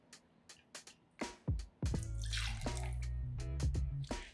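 Hennessy V.S. cognac, 1.5 ounces, is poured into a cocktail shaker: a few sharp drips and clinks, then a steady, close pour of liquid that runs for the last couple of seconds.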